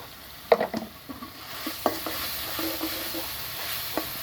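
Shrimp and sponge gourd cooking in a pan as spices are added, with a soft steady sizzle under scattered scraping stir strokes and light clinks of a spoon against the pan, fairly close.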